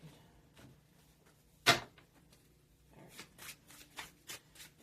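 Tarot cards being cut and shuffled by hand, a sharp riffling snap followed by soft shuffling rustles and a run of quick card flicks, close and quiet with no talking.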